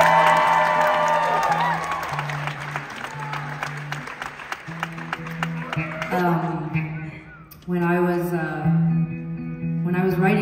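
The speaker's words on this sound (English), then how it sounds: "Give Sara a round of applause." A crowd claps and cheers at close range, then the applause fades and a voice speaks.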